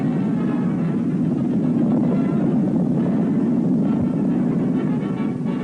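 Propeller drone of a World War II-era B-17 bomber flying at a 1950s air show, a steady, loud broadband engine roar held throughout with no talk.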